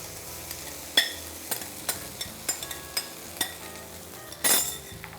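Dal goes into a hot pan with turmeric and goda masala and is stirred, giving a soft sizzle under a string of spoon clinks and scrapes against the pan at a steady, irregular pace.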